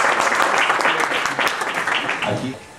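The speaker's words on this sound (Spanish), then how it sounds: "un aplauso para Gentino." An audience breaks into dense applause that rises and then tapers off over a few seconds, with some voices mixed in.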